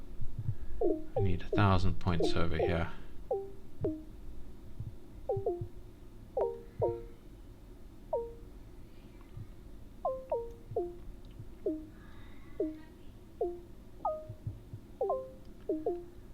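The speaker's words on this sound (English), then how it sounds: "Don't know if you can hear my cat yelling in the background." A cat yowls repeatedly in the background, short rising cries at irregular intervals across the stretch, fairly faint and partly under someone talking nearby.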